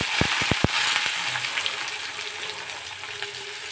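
Onions frying in oil in a pan, a steady broadband sizzle with a few sharp crackles and spits near the start, close and continuous with no talk.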